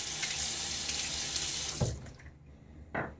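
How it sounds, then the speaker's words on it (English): Tap water runs steadily into a sink for rinsing while shaving, then cuts off, followed by a couple of brief splashes and drips. "All right, I'm gonna rinse."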